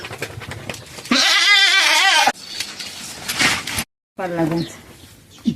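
A goat bleats loudly and close by in one long wavering call, followed later by a shorter bleat, with people talking around it.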